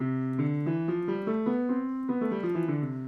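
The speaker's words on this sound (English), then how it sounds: "So a major scale would sound like this" A single melodic line steps up a major scale and then back down, each note clear and sustained, played alone at moderate volume.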